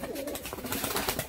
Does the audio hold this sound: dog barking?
no